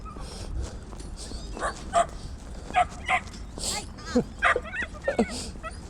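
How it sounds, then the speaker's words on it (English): A small dog yips and barks in short, irregular bursts at an outdoor dog park, fairly close and sharp, mixed with a few whimpers while people talk in the background. "There's a little dog in the dog park."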